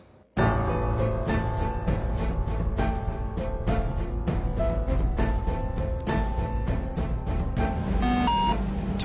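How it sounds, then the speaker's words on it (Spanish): A continuous aircraft ground proximity warning (GPWS) terrain alarm with steady tones and repeated beeping, loud and close, running without pause for about nine seconds. "El GPWS, el sistema de alarma de proximidad del suelo, sonó apenas a 6 segundos del impacto"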